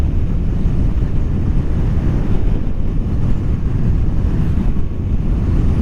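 Steady, loud wind buffeting roars over a Honda NC750XA motorcycle on the move, a dense low rumble filling the whole stretch without a break.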